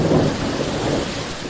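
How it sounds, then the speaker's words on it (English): Steady rain with a low rolling rumble of thunder for a thunderstorm effect over a graveyard, dense and continuous without any voices. "Don't make me do a thunderstorm over the graveyard again."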